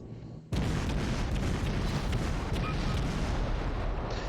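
Sustained, dense naval gunfire from a US Navy cruiser, the Atlanta, in World of Warships, opening abruptly into a loud, continuous roar of overlapping cannon blasts and booms.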